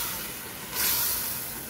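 Tomato paste frying in a pot for a white bean and calf's foot soup, a steady loud hiss and sizzle that swells briefly partway through, with no talking.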